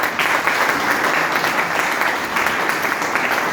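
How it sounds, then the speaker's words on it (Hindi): A seminar crowd at a direct-selling meeting in India claps loudly and steadily, with dense, continuous applause throughout and no pause. "एक बार जोरदार ताली होनी चाहिए।"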